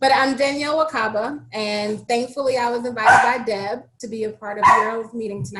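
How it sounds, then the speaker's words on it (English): A dog barks and yips in the background of an online meeting, short repeated barks scattered under someone speaking steadily in the foreground. "And sorry for my dog in the background."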